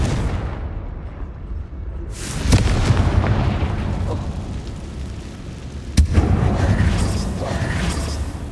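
A Confringo blast spell cast inside an abandoned mine in Hogwarts Legacy, two booming bursts about three seconds apart over a rumbling game ambience.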